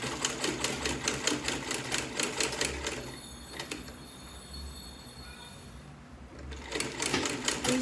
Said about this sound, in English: So now I'm going to be top stitching round.